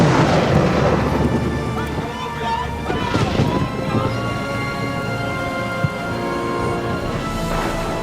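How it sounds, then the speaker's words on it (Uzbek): A storm over a lake: steady rain with rolling rumbles of thunder and gusty noise, continuing throughout under a speaking voice. "Qattiq bo'ron chiqib, ko'lda to'lqin ko'tarilyotdi."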